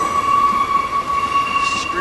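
A train passing on a viaduct, its wheels squealing in a sustained, high, steady screech over a constant rumble. A faint voice can be heard underneath.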